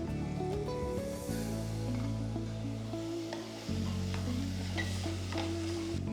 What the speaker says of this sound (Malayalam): മിക്സി ജാറ് കഴുകി കുറച്ച് വെള്ളം കൂടെ ഒഴിക്കുക.